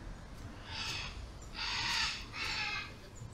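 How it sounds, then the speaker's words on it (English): Three harsh, hoarse bird calls rise above a quiet outdoor background in Quepos, Costa Rica, each lasting about half a second, moderately close. "You may be able to hear the birds."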